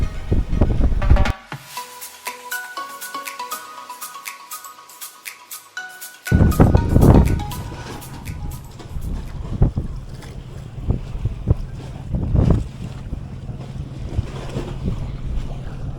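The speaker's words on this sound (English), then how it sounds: "So it got really windy here real quick." Strong coastal wind on Phuket buffets the microphone in loud, rumbling gusts. Surf and water wash around a boat, and a brief burst of music opens the stretch.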